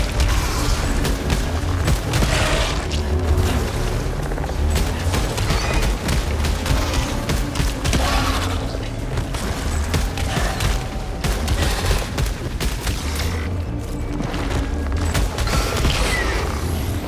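Continuous combat gunfire from Returnal, a dense, loud barrage of alien weapon shots and booming impacts that keeps going without pause, with mechanical clatter mixed in and no voices.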